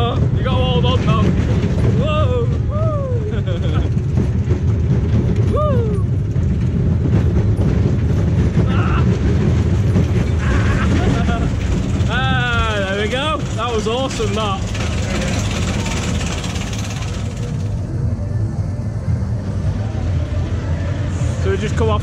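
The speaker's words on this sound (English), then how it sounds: "So we just come off the runaway mine train." Runaway Mine Train, a classic small roller coaster at a theme park, roars and rattles along its track in a loud continuous rumble with clattering wheels and wind buffeting, while riders scream and shout throughout.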